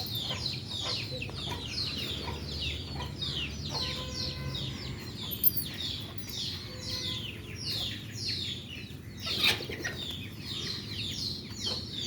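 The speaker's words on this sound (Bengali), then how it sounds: "এই যে মুরগি বাচ্চা" Chickens and chicks cluck and peep continuously in a yard, busy overlapping high chirps at moderate distance, with occasional thumps and brief background noises.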